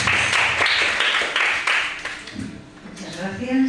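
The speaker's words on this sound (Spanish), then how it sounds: "Un aplauso para nuestra invitada." Brief applause from an audience welcoming a guest speaker, an anthropologist, at a university talk, clapping that fades after about two seconds as a voice begins speaking.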